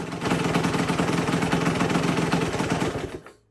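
A rebuilt Yamaha YZ125 two-stroke dirt bike engine idles with a loud, rapid, buzzing rattle close by, then cuts off abruptly at the end.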